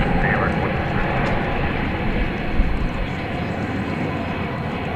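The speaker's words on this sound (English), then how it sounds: "MD-11 head off to Louisville." An MD-11 departing DFW Airport at night gives a loud, steady jet-engine roar, broad and sustained from start to end, with no one speaking over it.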